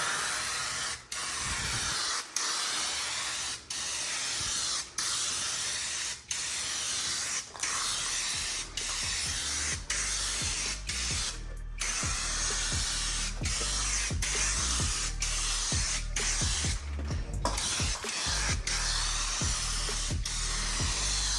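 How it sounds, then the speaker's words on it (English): An aerosol spray can hisses out clear coat in long, continuous bursts with brief pauses between passes, close and loud, on a budget Mustang build with a BMW chassis swap, and no one speaks. "Time for clear coat."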